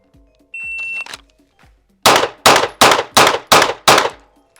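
Pistol fired during a timed shooting run, a shot timer beep followed by six sharp loud reports in quick, even succession.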